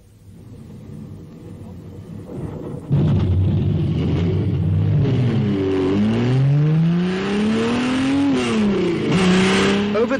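A 1957 Maserati Formula 1 racing car engine starts with a loud roar, then revs up and down repeatedly, the pitch climbing and dropping, close and powerful.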